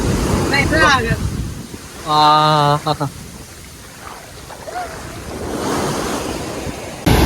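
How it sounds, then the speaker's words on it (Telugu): Sea waves crash and wash on RK Beach in Vizag with a loud, broad roar and buffeting wind noise, while someone speaks briefly over the surf. "భలే పడుతున్నాయి కెరటాలు."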